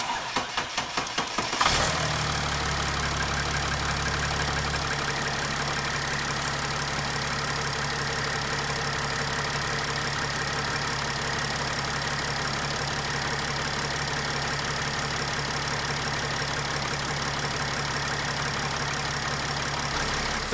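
Mercedes 3.0L OM642 diesel engine in an ML350 cranking briefly, catching and settling into a steady, loud idle that drones on without talk.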